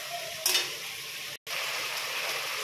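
Ganges river fish sautés in a pan with a steady, close hiss of frying and a brief stirring scrape near the start. The sizzle cuts out for a moment, then resumes.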